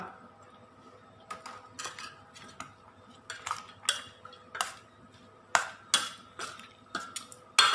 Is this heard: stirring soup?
yes